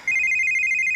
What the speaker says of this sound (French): Mon téléphone.